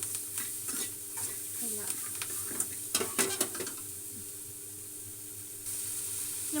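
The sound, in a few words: tomato chutney ingredients frying and being stirred in a pan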